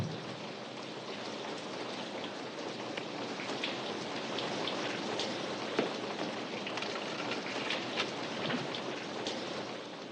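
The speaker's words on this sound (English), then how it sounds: "it's starting to rain." Steady rain falling, a dense continuous hiss with scattered drop patters throughout, even and moderately loud with no voices.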